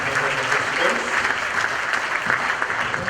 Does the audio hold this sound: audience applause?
yes